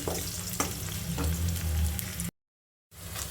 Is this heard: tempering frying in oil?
yes